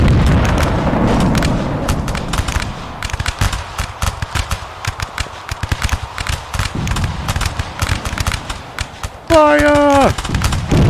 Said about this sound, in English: Turn this cannon around, shall we?